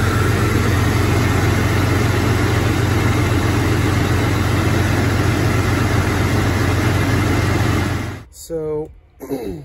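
A Jeep Cherokee XJ engine idles while warming up for an oil pressure test, a loud, steady low rumble close by for about eight seconds, then it cuts out and a voice briefly speaks.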